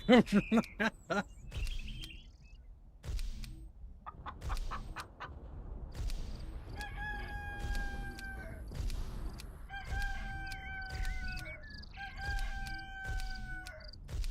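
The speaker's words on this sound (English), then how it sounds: "the rooster would keep crowing until it gets hoarse." A rooster crows over and over in the Black and White 2 video game, the calls growing strained and hoarse. The crows stand alone and fairly loud with no talk, followed by a few bright chiming game tones.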